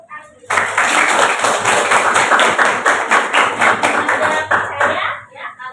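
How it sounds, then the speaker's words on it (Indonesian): A classroom of students claps hands together in quick, crisp, steady rhythm, close and loud, before the clapping thins and stops near the end. "Kasih tepuk tangan dulu."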